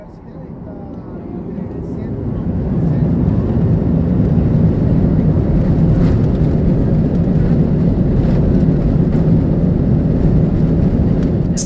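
A steady, loud low roar fills a passenger airplane cabin in flight, swelling over the first few seconds and then holding a constant broadband rumble.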